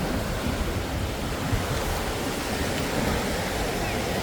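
Ocean surf at Hallett Cove Beach in Adelaide washes steadily as a broad, constant roar, with wind buffeting the microphone throughout and no distinct breaks between waves.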